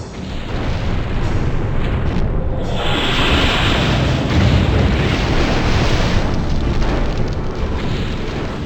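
A barrage of artillery strikes explodes in the classic PC game MechCommander: loud, sustained rumbling booms and blasts that roll on without a break and build in the middle.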